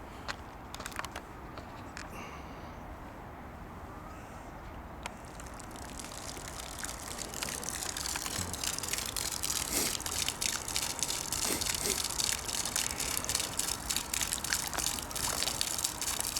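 Liquid glugs from an uncapped bottle into a river on a winter day, a steady gush that follows several seconds of quieter flowing water.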